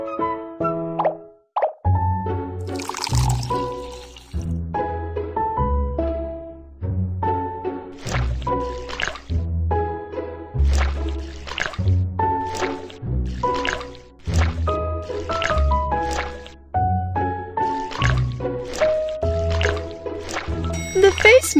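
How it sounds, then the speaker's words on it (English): Milk is added in a cartoon pet salon mobile game, with repeated bubbly plops and liquid drips falling in a regular pattern over a bright, bouncy musical background. "Add some milk."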